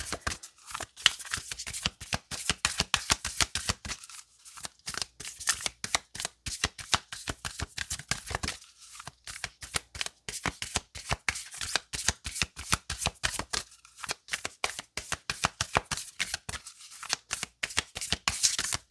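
Tarot cards shuffled by hand in a steady run of crisp, rapid riffling snaps, close and fairly loud, broken by a few brief pauses, with no talking.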